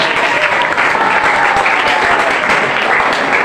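An audience claps at a school annual prize-giving ceremony, giving a dense burst of close, steady applause from many hands that lasts the whole moment with no break.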